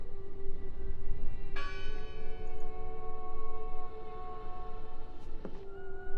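A heavy church-style bell tolls in the video game Draugen, two distinct strikes a few seconds apart, each leaving a long sustained metallic ring over a constant low rumbling background, with no talking.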